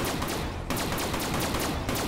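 Rapid automatic gunfire in the video game Call of Duty: Black Ops 3, a steady loud stream of closely spaced shots with one short break partway through, up close and with no voices.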